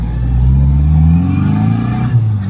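Gen 5 Mini with straight-cut gears accelerating hard, a loud close engine with rising revs and a pitch that climbs steadily, heard from inside the car with no talking.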